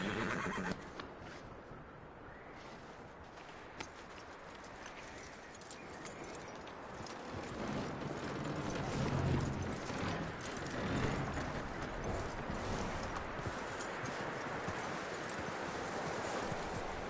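A horse in a PS4 video game neighs and whinnies while hooves clip-clop steadily, fairly faint under a dense game soundscape, with no speech.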